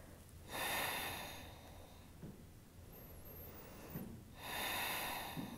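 Slow, deep breathing during a yoga stretch for golfers, with two long audible exhales, near and soft, separated by quiet pauses.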